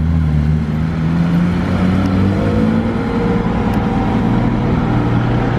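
Aston Martin DB11 driving up on a Monaco street, a steady, loud, low engine drone with a slowly rising pitch as the car approaches, no voices.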